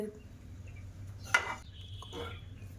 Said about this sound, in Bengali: এবার তোমাদেরকে দেখাবো, দেখো ঢাকনা তুলে